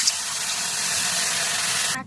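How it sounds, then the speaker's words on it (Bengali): Water poured over potatoes and bitter gourd frying in oil bursts into a loud, continuous steaming hiss that cuts off abruptly at the end. "ভাজা হয়ে গেছে জল দিয়ে দেই"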